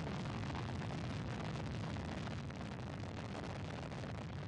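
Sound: Soyuz FG rocket launch engine roar

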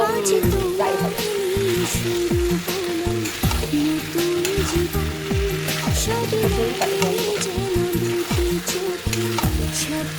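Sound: potatoes being fried and stirred in a pan

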